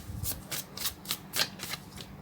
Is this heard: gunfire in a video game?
no